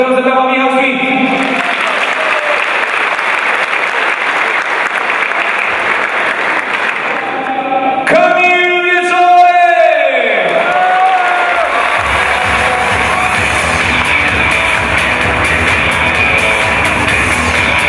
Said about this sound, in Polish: jeszcze raz gorące brawa, Michał Świt!